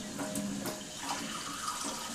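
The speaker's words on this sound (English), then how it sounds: "open the water, and that will send water through the water ionizer." Water running from an Enagic SD501 Kangen water ionizer, a steady faint hiss and splash of flow heard quietly and continuously with no talk.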